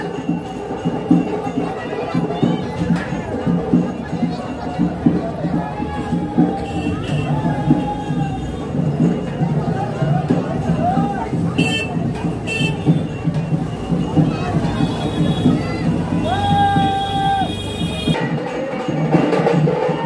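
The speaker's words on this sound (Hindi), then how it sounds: "ये देखिए भीड़ लगनी शुरू हो गई यहाँ लोगों की ऐसे" A crowd gathers for the Dhampur Holi procession, a continuous dense murmur of many voices and outdoor bustle, with scattered louder calls and a few brief tonal whistles or horn-like notes rising over the steady din.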